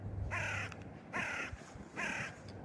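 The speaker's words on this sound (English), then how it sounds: "Like that bird right now." A crow caws outdoors three times in a steady, evenly spaced rhythm, each call loud, harsh and clear over a low background hum.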